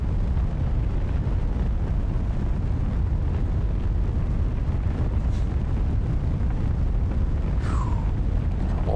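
A rocket launching in Kerbal Space Program 2 gives a steady, loud, dense roar of low rumble that runs through the whole span without pause.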